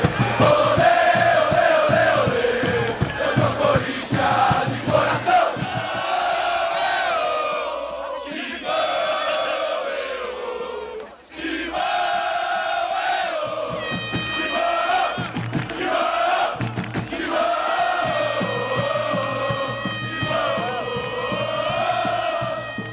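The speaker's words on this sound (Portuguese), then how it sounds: "A torcida do Corinthians cantava aquela música Vamos Corinthians" Corinthians football fans chanting and singing together in a packed stadium at the Maracanã in 1976, a loud sustained mass of voices with rising and falling melodic lines and a brief dip partway through.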